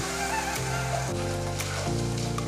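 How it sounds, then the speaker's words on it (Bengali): Spice paste sautéing in oil for chicken rezala gives a steady, soft sizzle throughout, with sustained musical tones running underneath. "আমি সবসময় চেষ্টা করি যে মশলাটা ভালো করে কষিয়ে নিতে"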